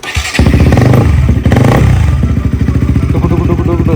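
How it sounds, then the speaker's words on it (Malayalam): A modified KTM Duke motorcycle with an altered exhaust fires up and revs hard up close, a loud throaty burst that dips and then settles into a rapid, pulsing idle. "എക്സോസ്റ്റ് നമ്മൾ നൈസായിട്ട് നൂരിയിട്ടുണ്ട് കേട്ടോ. ജസ്റ്റ് അതും കൂടെ ഒന്ന് കേൾപ്പിച്ചു തരാം."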